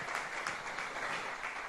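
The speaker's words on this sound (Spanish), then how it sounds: "Dale un aplauso al Señor." Congregation applause during a Spanish-language church service, a soft, steady wash of clapping that stays even and somewhat distant for its short length, with no voices over it.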